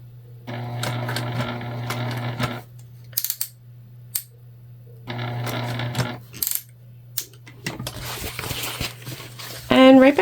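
A Juki sewing machine runs in two sustained stitching bursts on a structured bag, a steady hum with rapid needle rhythm, followed by clicks, handling sounds and a short high squeak.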